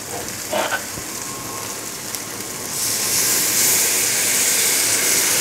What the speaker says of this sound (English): Now let's put in some liquid.